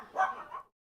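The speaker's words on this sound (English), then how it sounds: "sorry about the dog barking" An excited dog lets out a short burst of loud, close barking for about half a second, then falls silent.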